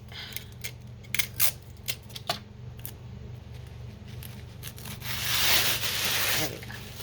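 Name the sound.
tearing napkins and book pages by hand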